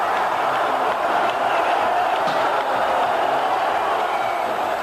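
Dense, steady roar of a football crowd celebrating Guarani's promotion back to the first division of the Brazilian Championship as fans invade the pitch, a continuous wash of cheering and shouting with no single voice standing out.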